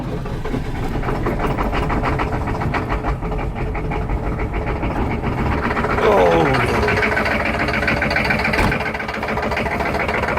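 A 1996 6.5 diesel engine cold-starting and running with a steady, loud mechanical rattle and rough idle that swells slightly around the middle, with a brief voice underneath.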